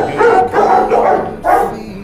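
Dog at an animal shelter barking in two loud, close bursts with a brief gap between them, the barks slightly yelping in tone.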